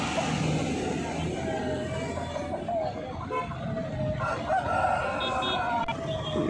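A rooster crows repeatedly at a busy country chicken market, the drawn-out calls rising over steady crowd chatter and traffic noise, with people talking nearby.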